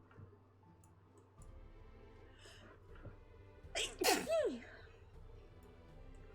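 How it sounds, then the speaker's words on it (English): A single loud human sneeze bursts out in the middle, with a sharp intake just before it, over a quiet background of faint ticking. "I'm gonna sneeze again"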